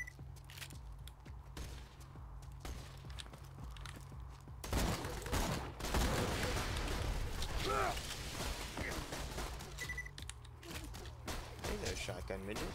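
Gunfire from the Borderlands 2 video game rattles in dense, overlapping bursts, growing louder about halfway through and staying busy to the end.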